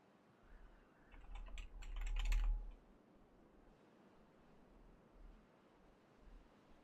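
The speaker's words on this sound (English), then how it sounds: "You can hear me typing" Close, soft clattering of computer keyboard keys over faint background hiss, a short busy burst of rapid keystrokes followed by a few scattered, quieter taps.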